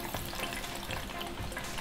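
Breaded KFC-style chicken fries in hot oil, giving a steady, faint sizzle and bubbling hiss with no talk over it.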